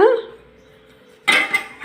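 A metal lid clanks down onto a pot holding two eggs on a stove, a short bright clatter followed by a second lighter clink, close by after a quiet stretch.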